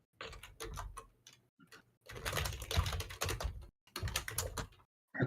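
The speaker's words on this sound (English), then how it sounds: "furiously typing" Rapid, furious clattering on a computer keyboard, with dense bursts of keystrokes separated by short pauses, close and fairly quiet.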